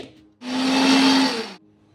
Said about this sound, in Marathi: आपण हिला आता मिक्सरमध्ये रवाळ अशी वाटून घेऊ